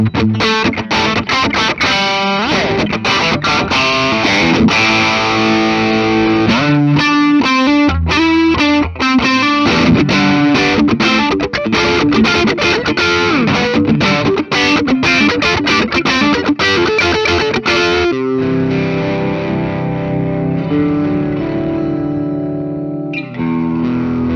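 A distorted 1993 Gibson Les Paul DC Double Cut Special electric guitar plays loud, driving chords and riffs with effects, continuous throughout and ringing out at the end.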